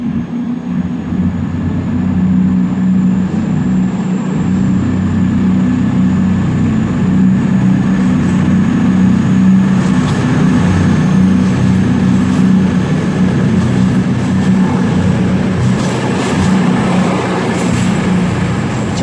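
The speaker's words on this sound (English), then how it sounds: "departing now is going to be the 10:06 cross-country service to Southampton Central from Newcastle" A CrossCountry passenger train pulls out of Darlington station on the East Coast Main Line, bound for Southampton Central from Newcastle, its steady engine drone and rolling wheel rumble sustained and loud throughout.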